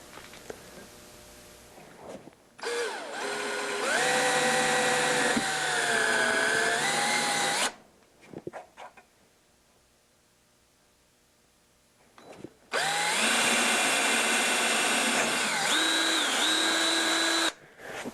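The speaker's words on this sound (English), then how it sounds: "When I drill this, I'm going to go in until I hit the other side of the cross dowel hole there" Power drill boring a bolt hole through a wooden guitar neck for a mortise and tenon joint into a cross dowel hole, two loud sustained whining bursts with a quiet pause between.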